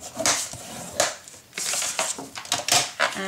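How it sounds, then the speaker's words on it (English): Paper being scored and folded on a score board for a card-making project: a run of dry scraping strokes and crisp creasing rustles, close and moderately loud, in uneven bursts with brief pauses. "Then score at 1/2 inch. Fold it."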